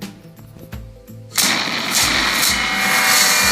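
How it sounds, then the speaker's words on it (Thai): A burst of booming blasts with a crackling, gunfire-like rattle erupts after a quieter opening and stays loud and dense to the end. "เสียงระเบิดจะต้องดังสามลูกนะครับ"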